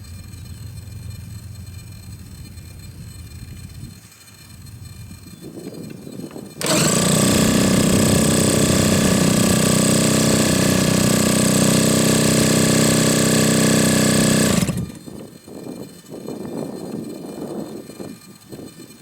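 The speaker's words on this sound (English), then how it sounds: "our first attempt at starting the engine didn't go well" A Giant Stinger kit model airplane engine on a starting attempt bursts into a loud, steady buzzing drone for about eight seconds, then cuts out, leaving quieter background rumble before and after.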